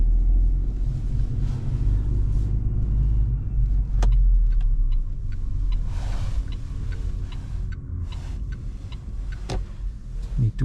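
A new Opel Frontera Hybrid 145 rolls through a large multi-floor parking garage at night, giving a low, steady engine and tyre rumble with scattered sharp ticks and clicks echoing around it.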